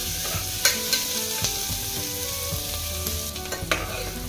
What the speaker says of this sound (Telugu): ఈ ఉల్లిపాయలు బాగా వేగాలి.